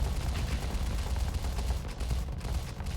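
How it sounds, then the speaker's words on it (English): Constant gunfire from space warships fighting in the game Starsector comes as a dense, unbroken rattle of rapid shots, loud and continuous from start to finish. "I do love the sound of constant gunfire after all."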